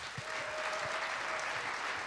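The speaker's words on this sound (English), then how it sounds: "Round of applause, one more time." Sustained applause from an audience at the LCF 2015 trophy awards ceremony, a steady, even wash of clapping with no distinct individual claps standing out.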